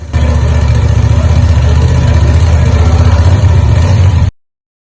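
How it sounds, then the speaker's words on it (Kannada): A Honda Hornet 750 motorcycle idles with a loud, steady, close exhaust burble that cuts off abruptly near the end, no talk. "ಈಗ ಬನ್ನಿ ಎಕ್ಸಾಸ್ಟ್ ನೋಟ್ ಕೇಳೋಣ"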